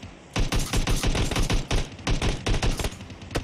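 Gunfire in the mobile battle royale game PUBG Mobile: rapid, close, loud bursts of automatic shots in quick repeated volleys, with no talk.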